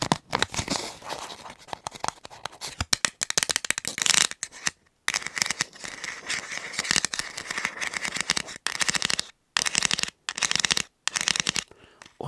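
Thin foil food tray from a B&M haul being handled close up, giving continuous loud crinkling and crackling with brief pauses, crisp and near.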